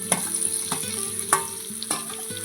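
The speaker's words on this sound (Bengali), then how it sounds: "এবারে ভেজে রাখা পটল আর আলু এই মশলার মধ্যে দিয়ে দেবো।" Fried pointed gourd and potato pieces are stirred into sizzling masala in a pan, with a constant frying hiss and rhythmic spoon knocks roughly every half second.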